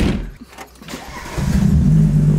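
A car engine cranks and catches after a few seconds of handling noise, then settles into a loud, steady running rumble close by.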